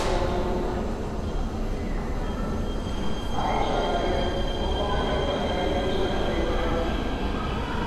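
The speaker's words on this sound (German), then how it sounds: "Während auf dem Nachbargleis ein moderner Gliederzug vom Typ G1 abfährt" A modern G1 articulated subway train of the Nuremberg U-Bahn departs from the neighbouring track in a station, producing a steady loud rumble with rising motor whine and faint wheel squeal throughout.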